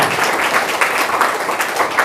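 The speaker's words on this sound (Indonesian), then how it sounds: "Tepuk tangan untuk Aquapam." An audience at an Indonesian school-program event applauds in a brief, dense burst of many hands clapping at once.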